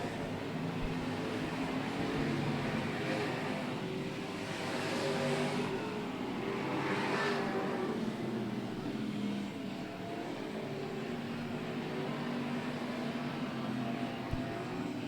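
Engines of race cars roar steadily on an oval track during a race, a continuous loud drone that swells as the pack passes, with no talk over it.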